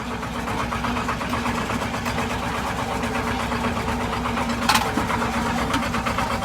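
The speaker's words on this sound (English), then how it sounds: "Probably can just barely hear the engine right now." A Porsche Diesel Standard tractor's diesel engine runs at a steady idle, a continuous low rumble with a rattly clatter, moderately close, with a brief clank midway.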